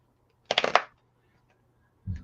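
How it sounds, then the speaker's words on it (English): A deck of tarot cards is shuffled in one quick, loud riffling burst of overlapping flutters, followed by silence and then a short low thud. "Hear how loud I'm shuffling?"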